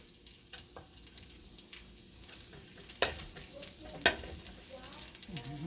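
Garlic and onion hitting a dry pan with no added oil, giving a soft, low sizzle with a few sharp clinks of a utensil against the pan and quiet stirring around them.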